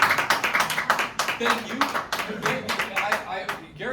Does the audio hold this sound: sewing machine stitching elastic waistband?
no